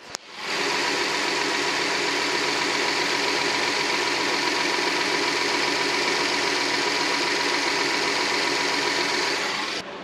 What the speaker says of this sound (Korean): 엔진 소리 한번 들어볼게요.